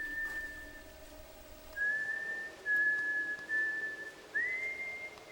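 A single person whistles a slow, clear tune, with held notes and small pitch rises, quiet and alone against a faint background.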